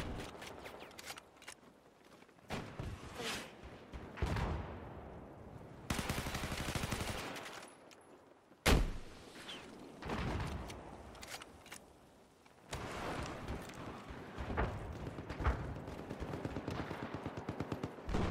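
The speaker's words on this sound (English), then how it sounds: "RPG shots off." Rocket-launcher blasts and rapid gunfire from a competitive first-person shooter match, with sharp bursts, whooshing launches and repeated explosive hits scattered across the stretch, plus fainter footsteps between volleys.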